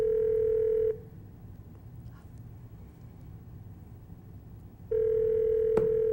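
A steady telephone tone sounds during a call, stops for about four seconds of low background hiss, then returns just as loud, with a brief click.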